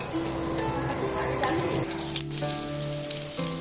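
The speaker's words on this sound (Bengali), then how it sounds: "সমস্ত আলুগুলো আমি এইভাবে করে ভেজে নেব কাশ্মীরি আলুর দম" Potatoes frying in oil for Kashmiri aloo dum, a steady close sizzle with a faint crackle running throughout and no talk.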